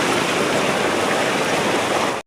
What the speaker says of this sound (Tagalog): Ang laki na po ng tubig.